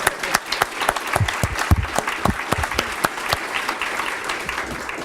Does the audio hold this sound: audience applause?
yes